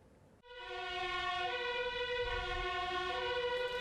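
A fire truck siren sounds in the Netherlands as the truck arrives at a spreading fire, a loud, steady, horn-like tone that starts abruptly and holds without a break.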